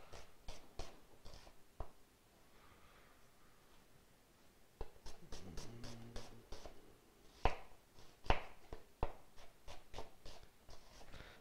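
A knife chopping onions on a board for French onion soup: sparse, crisp taps in irregular clusters, quiet and close, with a few sharper knocks and a short lull partway through. Nobody speaks.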